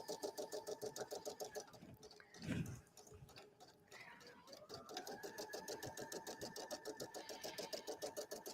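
Embroidery machine stitching designs on a jacket, a fast rhythmic needle chatter that pauses briefly and resumes, with someone talking over it.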